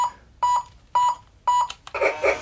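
Electronic sound effects from a Lionel Polar Express toy train remote: three short repeated beeping tones spaced evenly, followed by a brighter, noisier warbling jingle, fairly loud and close.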